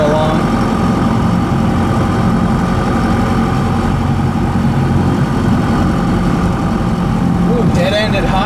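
A Ford F150 with a swapped 4BT Cummins diesel lugs in fourth gear at low speed on a rough road, a loud steady low drone inside the cab with a voice talking over it.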